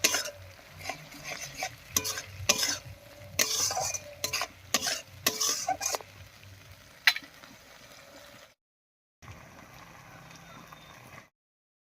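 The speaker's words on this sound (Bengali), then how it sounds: "এবার এর মধ্যে দেবো পোস্ত বাটাটা পোস্ত বাটা দিয়ে একটু কষিয়ে নেবো" Poppy seed paste being sautéed with spices and softened onions for a river fish curry, with a spoon stirring and scraping in a pan over a steady sizzle, then a brief pause and a quieter stretch of frying.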